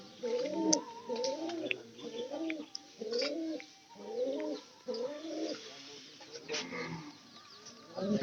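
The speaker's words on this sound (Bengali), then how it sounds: "এটা কিন্তু বাদল কাকার কবুতর।" Domestic pigeons in a loft coo continuously in overlapping soft, throaty rolling phrases, fairly close, with occasional wing flutters and small knocks in the background.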